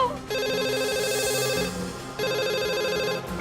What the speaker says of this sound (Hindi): फोन उठाओ, भगवान के लिए फोन उठाओ।